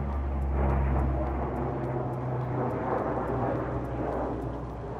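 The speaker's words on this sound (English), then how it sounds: "I got very, very distracted by that airplane." A low-flying airplane passing close overhead outdoors during crane work moving large houseplants and palm trees, a loud, steady engine roar with deep rumble that swells early and holds throughout, with no talk.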